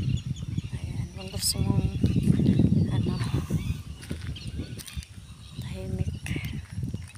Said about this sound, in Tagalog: Ang nag-iingay dito yung mga ibon lang.